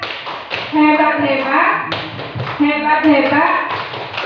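A teacher-training group performs a rhythmic 'tepuk hebat' clapping routine, patterned claps mixed with chanted voices and people talking over the beat throughout.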